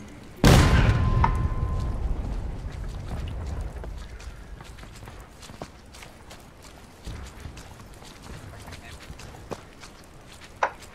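A single loud artillery cannon blast in the Civil War game War of Rights, with a booming decay lasting several seconds, followed by faint clanking, footsteps and occasional sharp clicks.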